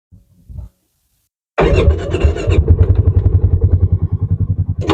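A 2015 Polaris Ranger 570 side-by-side cranks and catches, then settles into a loud, close, chugging idle with a steady rhythmic pulse after a brief starter whir.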